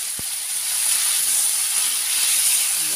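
Fish and kailan stalks sizzling in hot oil in a wok, a steady loud hiss and crackle of frying that runs throughout with no talking.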